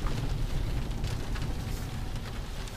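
Steady rain falls outdoors as a dense, even patter with no break, loud and close, and nobody speaks.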